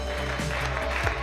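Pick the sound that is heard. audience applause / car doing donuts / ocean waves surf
audience applause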